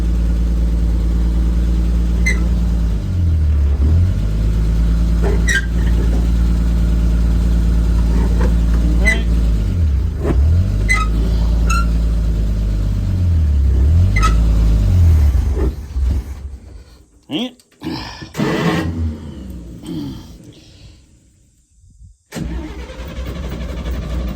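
A 1954 Metro van with an old drum-brake setup and a mismatched, poorly running carburetor: its engine drones steadily and loudly while driving, with periodic dips in pitch. Near the end the sound breaks up into uneven bursts, and a voice is heard at times.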